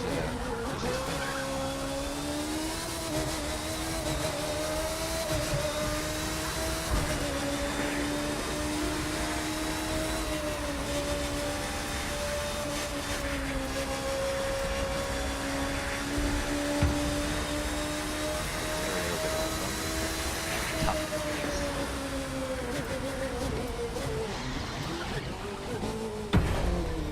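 Red Bull race car in The Crew 2 driving on ordinary roads, its engine a steady high-pitched drone holding a near-constant pitch throughout, with brief dips and shifts and no talking.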